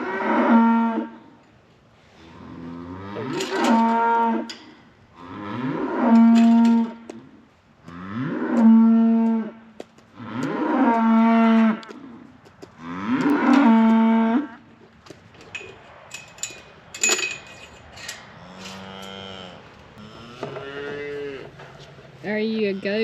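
Cattle on a farm moo loudly about six times in a steady series of long, drawn-out calls, then a quieter stretch with softer lows and rustling close by.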